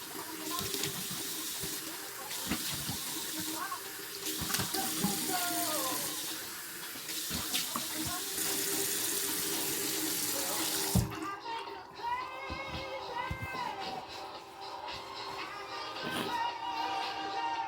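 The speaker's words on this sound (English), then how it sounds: "now I'm gonna wash my face, and after I shave, you gotta wash your face" Tap water runs steadily into a bathroom sink during face washing after a shave, a broad close splashing hiss that shifts as hands cup and splash, with brief speech partway through.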